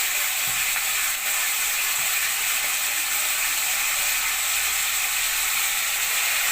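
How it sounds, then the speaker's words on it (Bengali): Chicken pieces frying in a masala of ginger, garlic and curry leaves for restaurant-style Chicken 65, giving a steady loud sizzle with faint scraping and clicking from stirring throughout. "এবার আমরা চিকেনটা দিয়ে দিচ্ছি।"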